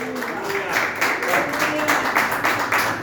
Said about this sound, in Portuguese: Vamos receber o irmão Diego aplaudindo Jesus bem forte